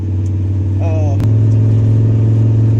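Engine of a lifted 1993 K5 Blazer on off-road tires, a truck that won't shift, droning while driving: a loud, steady low hum throughout, with a brief chirp partway through.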